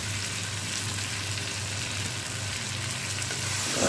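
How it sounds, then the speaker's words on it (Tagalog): Tomato sizzling and frying steadily in a hot pan while chicken biryani is being cooked, a constant close crackle with a faint low hum underneath and no talking. "Now put the tomato and cook till soft"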